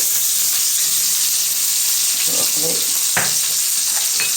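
Mustard seeds and curry leaves fry in hot oil, giving a loud steady sizzle and hiss close by, with a few pops and spatters breaking through partway along.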